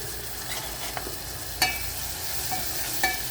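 Coarsely crushed garlic fries with turmeric in a pan for a thotakura (amaranth) fry. A soft, even sizzle carries a few faint spoon clinks and stir taps, with no talking.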